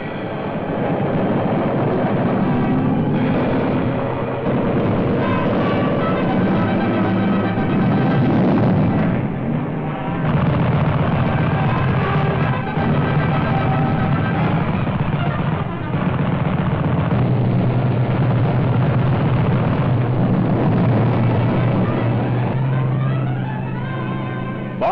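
Flying bombs are exploded in mid-air by interceptor aircraft in wartime newsreel footage. The rumbling blasts and roaring engine noise carry on continuously, dense and loud throughout, with no voice over them.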